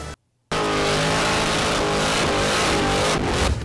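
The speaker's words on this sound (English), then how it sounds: "Look at this burnout car from Cletus McFarland, the neighbor" A 3D-printed RC burnout car with working active suspension revs hard after a brief silence, a loud, steady, buzzing motor whine with tire-spin noise that holds for about three seconds.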